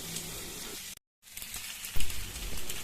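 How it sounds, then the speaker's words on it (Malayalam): Prawn kalmas shallow frying in a little oil, a steady close sizzle and crackle with a brief gap of silence, then louder bubbling spurts toward the end. "കുറച്ച് എണ്ണ ഒഴിച്ച് ഇത് ഷാലോ ഫ്രൈ ചെയ്തെടുക്കുക"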